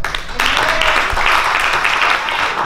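A church congregation applauds at a praise celebration, a short, loud burst of clapping that swells after a brief lead-in and holds steady.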